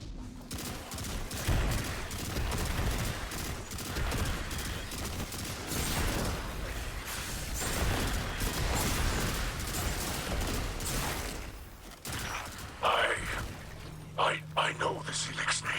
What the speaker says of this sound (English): this weapon is the battle rifle from Halo 2 and 3.